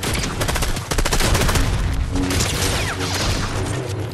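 Gunfire in a first-person shooter game: dense, loud bursts of rapid automatic shots in a steady rattling stream, with a few heavier booms mixed in and no talk.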